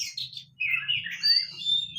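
Several small songbirds chirp and warble close by, high bright notes overlapping continuously over a low steady hum.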